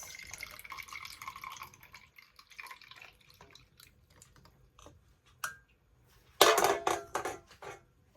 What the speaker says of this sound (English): I'm just gonna pour this over some ice.